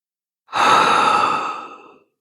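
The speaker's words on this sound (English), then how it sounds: "I'm going to take another deep breath." A single long, deep breathy exhale sounds close and fairly loud, like a sigh, during a forward-fold yoga stretch.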